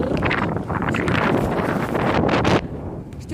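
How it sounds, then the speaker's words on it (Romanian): Strong wind on a boulevard buffets the microphone in loud, steady gusts with a rumbling roar, easing slightly near the end. "Știu că suflă vântul"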